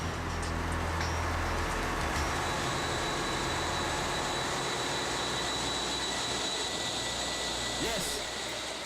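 A 30,000-horsepower ship diesel engine running on a test stand, producing a loud, continuous low roar with a steady droning hum that stays constant throughout.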